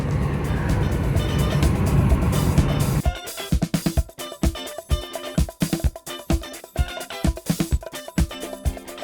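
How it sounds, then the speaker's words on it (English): Car driving along a road on the eastern side of the island, engine and tyre noise steady and close at first, then giving way to a choppy, rhythmic run of pulsing sounds. "we are driving along the eastern side of the island"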